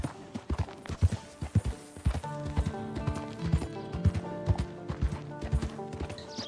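Hooves of a white horse clip-clop in a steady walking rhythm in the video game Red Dead Redemption 2, close and distinct, with a soft background ambience.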